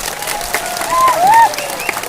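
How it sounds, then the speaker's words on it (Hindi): A large crowd at a political mass gathering in Chawmanu applauds in a steady, dense burst, with a faint whistle or shout rising briefly over the clapping. "रतीश बाबू को ताली दीजिए।"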